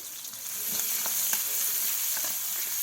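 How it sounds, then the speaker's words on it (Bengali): Chopped onion and green chilli hit leftover fish-frying oil in a home kitchen, setting off a steady close sizzle that swells slightly after the start, with light stirring scrapes and no voices. "ওই মাছ ভাজির তেলেই পেঁয়াজ কুচি দিয়ে দিল কাঁচামরিচ কুচি"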